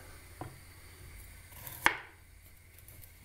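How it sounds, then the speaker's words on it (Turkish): A knife cuts a peeled carrot on a board in a quiet kitchen while a leek dish is prepared. There is one soft tap, then a single sharper chop, close by. "daha önceden soymuş olduğumuz havucumuzu doğruyoruz"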